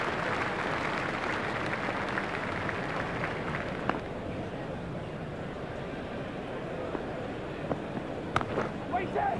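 Crowd at a cricket ground during a retro India versus Australia one-day match, a steady broad roar of cheering and applause rising for a lofted shot, dense and continuous with a few sharper claps.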